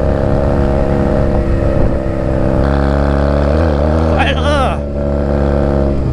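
A Honda Rebel 250 motorcycle engine drones loud and steady while riding on gravel, with a brief rise and fall in pitch near the end, close to the rider.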